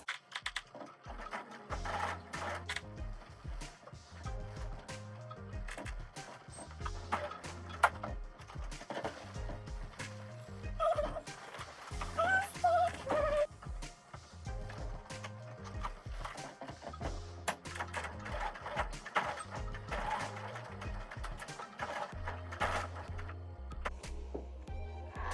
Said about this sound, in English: Now we're just gonna sew like a little box thing.